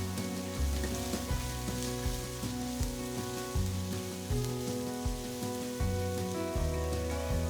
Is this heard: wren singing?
no